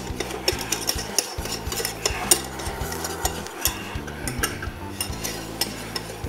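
A whisk beats flour into melted butter in a pan to make a roux. Quick, rhythmic metallic scraping strokes repeat close up over a soft sizzle, with no talk.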